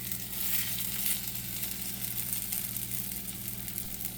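Boxty, Irish potato pancake batter, frying in butter in a cast iron pan, a soft, continuous sizzle with fine crackle over a faint steady hum.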